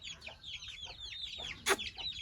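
Faint soft clucking from Aseel hens, several quick chirpy calls in a row, with one brief sharp noise near the end.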